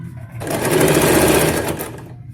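A sewing machine runs in one loud, steady burst of rapid stitching while a straight salwar is sewn, starting abruptly and stopping after about a second and a half, with no talk.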